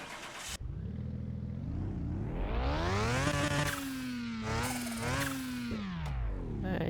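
A car engine in Car Mechanic Simulator 2021 starts with a click, then rises and falls through several rev sweeps before settling to a steady idle, heard alone and fairly close.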